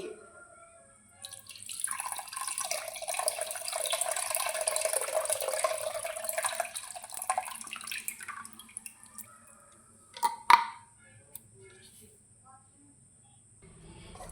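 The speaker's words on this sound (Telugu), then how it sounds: "నాకు ఎంతైతే వాటర్ కావాలో అంత యాడ్ చేసుకున్నానండి" Water is poured into soaked tamarind for thin pappu charu in a home kitchen, a steady splashing pour of several seconds followed by quieter pauses and a couple of brief clinks, with no talk.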